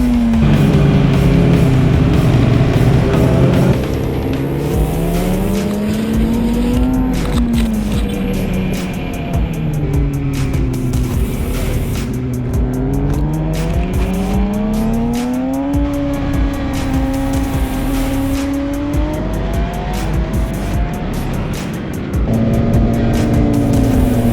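Several motorcycles scream around a track, engines rising and falling in pitch through gear changes as they pass, loud and continuous.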